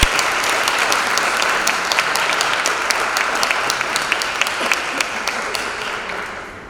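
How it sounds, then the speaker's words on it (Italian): An audience at an Italian academic conference on European conditionality and constitutional identity claps for its guest speakers, a thick, sustained round of applause with sharp individual claps standing out, holding steady before tapering slightly at the end. "vi chiedo un ultimo applauso per ringraziare i nostri ospiti dei loro ottimi interventi"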